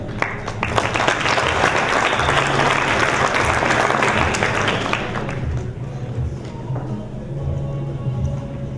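Audience applause at a twentieth-anniversary community gathering, a thick wash of clapping over a low tonal background that fades after about five seconds into a quieter murmur.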